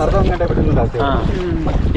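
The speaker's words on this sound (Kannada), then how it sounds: "ಮಳೆ ಬಂದ್ರೆ ಮಳೆ ಗಾಳಿ ಇವಾಗಲೇ ಜೋರ್ ಆಯ್ತಲ್ವಾ" Strong wind gusts outdoors near an old railway bridge, a loud buffeting rush over the microphone with voices talking underneath.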